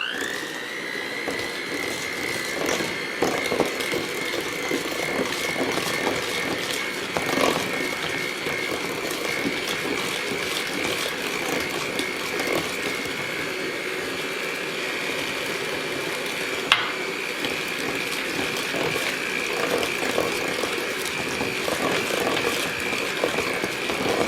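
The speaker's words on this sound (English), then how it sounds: "I'm gonna mix with my mixer" An electric hand mixer whirs steadily through banana blueberry bread batter as an egg is beaten in, a continuous mechanical hum with faint rattling for the full stretch, alone and fairly close.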